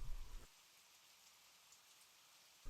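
Rain falls steadily in a forest as a soft, even hiss, faint and continuous, with a louder rustle at the start and end.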